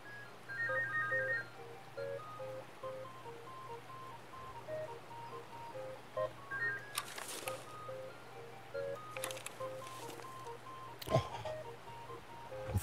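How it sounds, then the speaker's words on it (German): A mobile phone ringtone chimes a few short melodic bursts over steady background hum, with some sharp clicks and thumps from a Tarkov game session partway through. "Oh, jetzt geht mein Telefon los hier."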